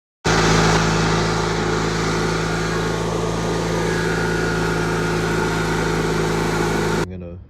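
A Ranch King twin-engine riding lawn mower drives along, its engine droning steadily and loudly for about seven seconds before cutting off abruptly.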